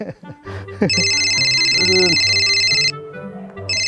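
A phone ringtone sounds loudly in a steady electronic trill, stopping briefly and starting again, with a person talking nearby just before it begins.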